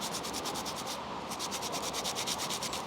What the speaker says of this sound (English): So what I'm doing is I'm sanding it.